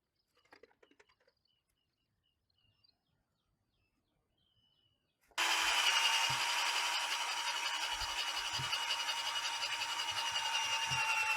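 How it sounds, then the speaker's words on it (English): A power driver sends a self-tapping lag screw into a bamboo pole, fixing it to a stake for a garden trellis. Some faint handling clicks come first, then a loud, steady high whine runs without a break for about six seconds. "I use self-tapping lag screws to secure the bamboo poles to the stakes."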